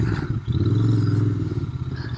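A Royal Enfield Continental GT 650 accelerating uphill on a twisty road, its engine note rising into a sustained close, throaty drone with a rhythmic pulse.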